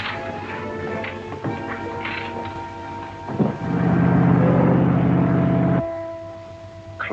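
A boat engine in a 1942 Sherlock Holmes film rumbles steadily under thunder-like crashes, then cuts off abruptly.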